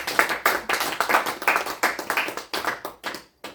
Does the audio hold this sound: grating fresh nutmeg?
no